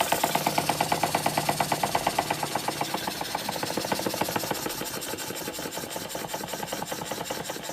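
A Wilhelm Bischoff Dresden steam engine with its original line shaft chuffs and clicks in a quick, even rhythm on low boiler pressure of about 1 bar, close and mechanical, running alone.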